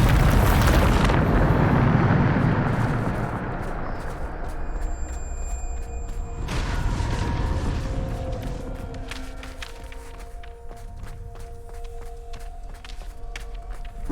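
Bombarda explosion spell cast in the Hogwarts Legacy video game: a loud, deep, rumbling blast fills the first few seconds, then fades into quieter crackling and scattered debris sounds.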